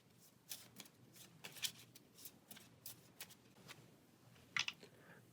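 Playing cards from the Pathfinder Adventure Card Game are shuffled by hand, giving a quiet series of crisp flicks and riffling snaps in an irregular rhythm, close and alone.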